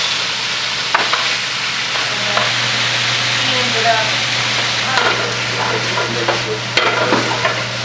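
Pork bites fry and brown in a pan for a steady, close sizzle, with a few light stirring scrapes and clicks breaking through the constant crackle.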